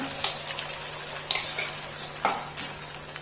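An egg, onion and chilli mixture frying in coconut oil sizzles steadily close by, with a few sharper scrapes and clinks of a utensil against the pan over a low constant hum.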